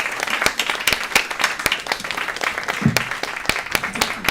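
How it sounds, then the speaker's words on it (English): Scattered clapping from a small group, uneven individual claps rather than a full roar, continuing steadily throughout. "Let's give Greg a round of applause."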